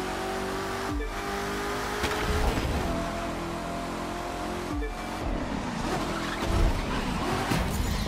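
A Corvette races through the Las Vegas streets in The Crew 2, its engine droning steadily with tire skids. Sharp impacts near the start and midway suggest crashes. No voices are heard.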